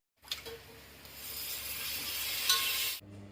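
Fresh coriander and mint leaves fry and get stirred in a pan, giving a soft, steady sizzling hiss with light scraping for about three seconds, then stopping abruptly.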